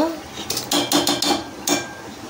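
A metal lid lifts off a pot of boiling Telugu pappu charu dal, giving a quick series of close, bright clanks and rattles, five or six taps in rapid succession.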